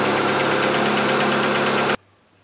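A 2000 Ford Focus engine with a misfire idles close and loud with a steady, slightly uneven thrum, then cuts out abruptly, leaving near silence.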